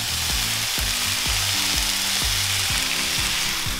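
Vegan pad thai ingredients stir-fried with sauce in a hot pan: a loud steady sizzle with a rhythmic series of spatula knocks and scrapes, roughly every half second.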